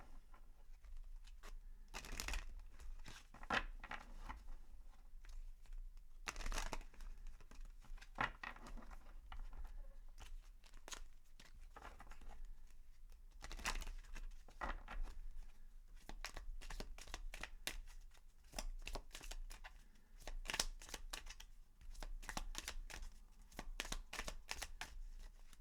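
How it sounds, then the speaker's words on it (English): Angel of Abundance oracle cards being shuffled, with repeated bursts of papery riffling and flicking that come and go over a steady quiet background, close and fairly clear, no voices. "let's get you an Angel of Abundance Oracle card"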